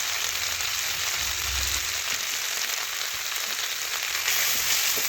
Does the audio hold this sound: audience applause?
no